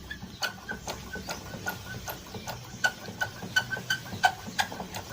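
Repeated light mechanical clicks and ticks at a steady rhythm as a disc brake lever is squeezed and released several times up close, with the brake fluid empty.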